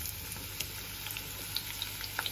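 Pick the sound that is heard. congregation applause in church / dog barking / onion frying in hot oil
onion frying in hot oil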